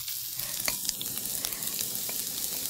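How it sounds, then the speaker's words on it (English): Carrots sizzle and fry in hot oil in a wok, a steady dense crackle with scattered sharper pops, close and continuous throughout with no talking. "heat the oil in the wok or a frying pan, and I'm going to add my carrots to this"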